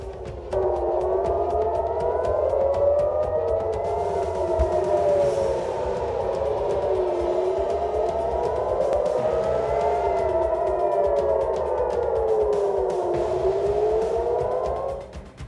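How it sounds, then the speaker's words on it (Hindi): Air raid sirens wail over Tel Aviv at night, rising and falling in slow repeated sweeps, loud and continuous, echoing across open city space. "तेल अवीव रात भर सायरन की आवाज से गूंजता रहा"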